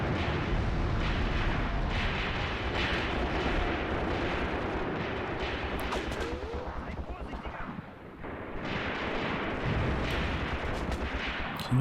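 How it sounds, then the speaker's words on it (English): Mortar rounds land in the WWII tank game Tank Warfare: Tunisia 1943 at Longstop Hill, with repeated heavy thuds and booming blasts over a continuous roar of battle noise, and speech mixed in. "we're still getting some mortar rounds landing about here"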